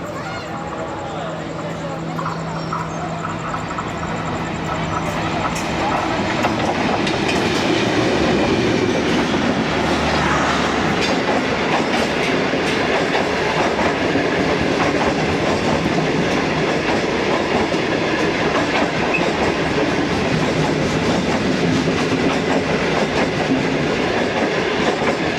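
The Green Line passenger train in Pakistan rumbles along with a loud, continuous clatter of wheels on rails. Voices can be heard over the noise.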